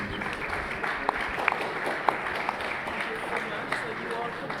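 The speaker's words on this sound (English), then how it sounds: "Round of applause for the panel" An audience at an agriculture and fashion forum applauds a panel, a steady, crowded patter of clapping mixed with chatter and a few sharper claps standing out.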